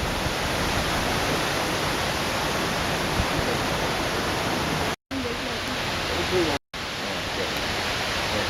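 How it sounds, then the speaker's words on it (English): Loud, constant roar of rushing water, dense and unbroken apart from two very brief dropouts. "You can hear the water."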